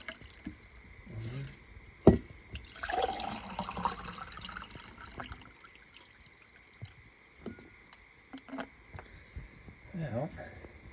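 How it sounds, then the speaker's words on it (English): Icy water is poured from one bottle into another during an insulated water bottle test, giving a burst of splashing and gurgling near the middle, with scattered drips and clinks and someone talking at times. "So we'll pour this in here."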